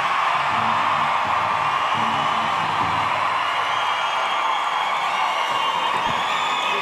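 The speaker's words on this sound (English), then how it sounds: "Cheer for the women's fancy." A large powwow crowd cheers for the women's fancy shawl dancers, a steady, loud, dense roar of voices and whoops that holds evenly throughout, with an announcer's voice blended in at times.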